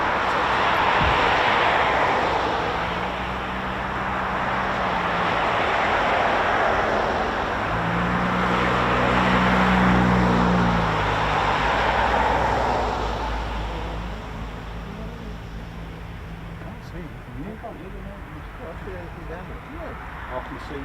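A heavy US Air Force aircraft takes off at RAF Mildenhall, a loud sustained jet roar swelling and fading over about twenty seconds with a droning tone, while voices talk over it.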